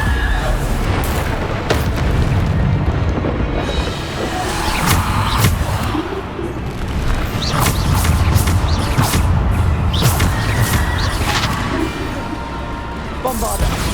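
Repeated Bombarda spell explosions in Hogwarts Legacy, with loud booming bursts recurring through dense game combat noise and voices heard over the action.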